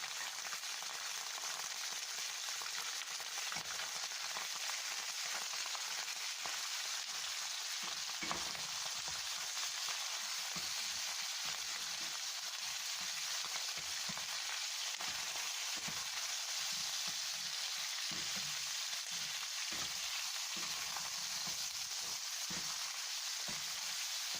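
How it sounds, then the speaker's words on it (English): Continuous crackling sizzle of small-cut beef pieces frying in a hot pan for stew, steady and moderately loud throughout with no talking. "I'm going to begin by frying the beef."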